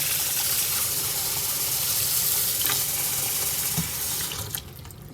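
Warm tap water runs steadily and gushes into a bowl of eggshells, a continuous close splashing stream that tapers off and stops near the end.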